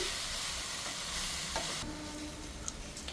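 Raw banana pieces fry in a pan with a dense, even sizzle that drops noticeably midway, followed by a couple of light stirring clicks, close and without any voices.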